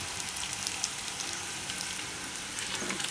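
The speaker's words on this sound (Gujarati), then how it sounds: "આ થોડીક વાર તેલમાં ફેરવશું એટલે એકદમ સરસ પાકી જાય" Sweet potato slices sizzling and frying in hot oil in a pan while being stirred, a dense steady crackle with small spattering pops throughout and no talk.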